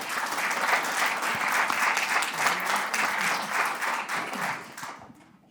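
A live conference audience applauds an engineering panel with dense, steady clapping that stays loud for about five seconds before quickly dying away.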